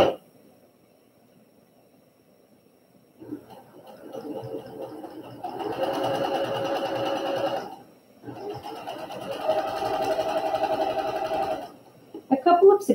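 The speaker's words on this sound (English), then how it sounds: "I'm using my quarter inch foot, making sure that everything is accurate and straight. And I'm going to sew slow." A home sewing machine with a quarter inch foot slowly stitches a quilt block, running in two sustained whirring stretches separated by a short pause, close and moderately loud.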